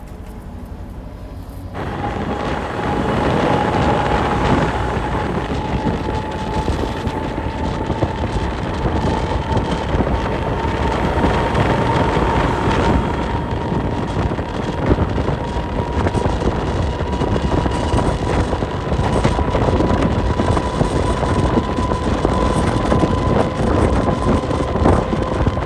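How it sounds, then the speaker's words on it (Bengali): A train pulling out of snowy Qazigund railway station on the Srinagar–Banihal line. After a quiet start it becomes a loud, steady rumble with wind buffeting the microphone, heard from on board. "আর আমাদের ট্রেনটা ছেড়েও দিল কাজিকুন্ড রেলওয়ে স্টেশন"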